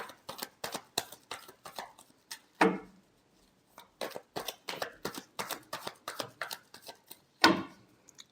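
A deck of tarot cards is shuffled up close in quick bursts of crisp riffling and flicking taps, with a pause in the middle and a couple of louder card snaps.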